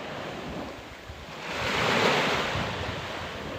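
Strong wind and sea waves on a coast during squid fishing, a steady broad rush of surf and gusting wind that swells louder midway, with no talk.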